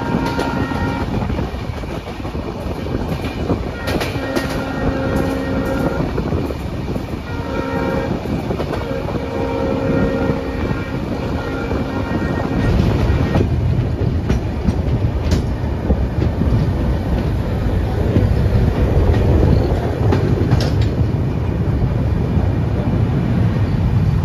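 A long-distance passenger train on the Dibrugarh to Kanyakumari route running on rails, a loud continuous rumble and rattle heard from inside, with repeated horn blasts in the first half.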